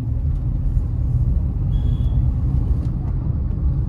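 From inside a Maruti Suzuki WagonR LXi CNG BS6 running on factory-fitted CNG, a steady, close, low engine and road rumble carries on as the car cruises at a moderate pace.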